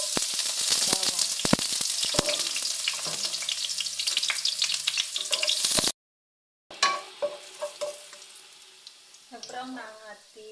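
Garlic browning in hot oil in a pan for chicken adobo, a loud close sizzle with stirring scrapes that cuts out abruptly, then resumes more faintly under a voice.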